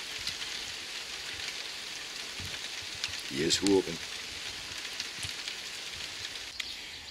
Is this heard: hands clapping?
no